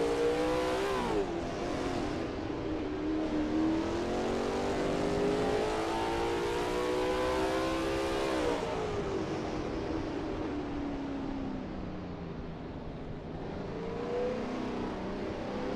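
Lola T70 MkII Spyder race car at Spa in a racing game, its engine droning loud and steady with rising and falling pitch through upshifts, holding high revs before settling lower, with no talk over it.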